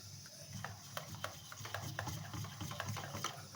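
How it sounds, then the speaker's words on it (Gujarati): Milk powder whisked into cold milk gives quick, regular scraping strokes against the bowl, a soft rhythmic swish with light metallic ticks, close up over a low background hum. "હવે વિસ્કરની મદદથી સરસ મિક્સ કરી લેવાનું, જેથી કોઈ પણ લમ્સ ન રહે"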